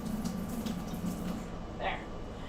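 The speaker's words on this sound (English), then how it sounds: "Let me run some water real quick." Tap water runs steadily into a sink, a close, continuous hiss and splash that goes on throughout with a brief brighter splash near the end.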